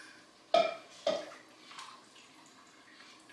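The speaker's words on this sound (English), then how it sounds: "garlic powder, onion powder, 4 cups of heavy cream, give that a stir." A spoon stirs heavy cream with garlic powder and onion powder in a pot, making two sharp metallic clinks followed by softer scrapes and quiet swirling.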